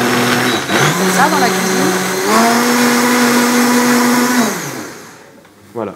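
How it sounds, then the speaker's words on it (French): A blender whirs loudly and steadily for several seconds, blending chive oil with coriander in a restaurant kitchen, then winds down near the end, with a short spoken remark over it. "Alors là, on mixe."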